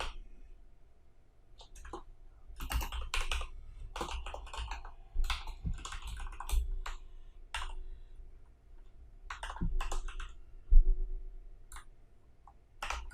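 Code being typed on a computer keyboard makes bursts of quick, close key clicks with short pauses between runs, all in a quiet room without talk.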